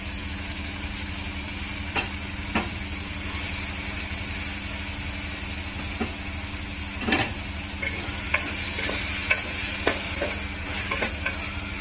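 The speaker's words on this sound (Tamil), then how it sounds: "இப்போ நல்லா மையாக வதக்கிக்கலாம்" Tomatoes stirred and sautéed in a pan for mushroom biryani, a continuous close sizzle with intermittent scraping taps of a spoon, louder clusters of stirring toward the end.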